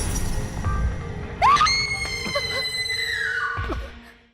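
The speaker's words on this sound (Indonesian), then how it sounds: "Dan berkat teriakan itu," People scream in a zombie-horror scene, with a sharp, rising shriek cutting above a noisy, rumbling background. A second cry comes shortly after, then the sound fades out.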